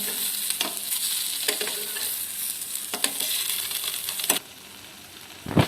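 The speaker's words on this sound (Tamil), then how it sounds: "இப்போ பாருங்கள், நல்லா வந்து எல்லாம் ஃப்ரையாக ஆரம்பிச்சுட்டு பாருங்கள்" Egg masala roast frying in a pan, a steady sizzle with several clinking spatula strokes as it is turned and stirred, close up and with no talking.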